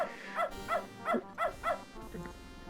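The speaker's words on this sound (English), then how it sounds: "the dog is flipping the shit" Frantic, repeated barking from a dog in the 1994 video game Beneath a Steel Sky, five loud evenly spaced yaps close up, with a softer whine at the end.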